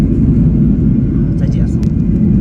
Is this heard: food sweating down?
no